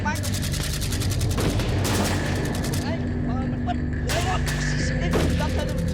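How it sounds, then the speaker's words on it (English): Dense volleys of gunfire crackle in bursts through a tense scene, with a raised voice over the shots and a low background rumble throughout. "Stop shooting!"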